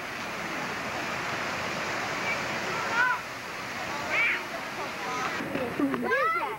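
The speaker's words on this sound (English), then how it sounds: "Get to see the water going over the edge." Water spills over the edge of Friant Dam above Millerton Lake in Friant, California, a steady broad rushing wash heard from a distance, with faint voices and brief chirps rising over it.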